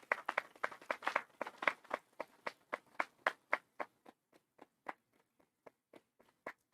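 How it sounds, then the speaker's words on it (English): An audience applauds the president's family at a university investiture: sparse, distinct claps that start fairly full and thin out into scattered individual claps, fairly close. "Let's give them a big round of applause."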